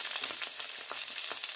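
Mixed vegetables, potatoes, flat beans and papaya among them, sizzle in a pan with little oil: a continuous bright hiss broken by soft scraping stirs, close and alone.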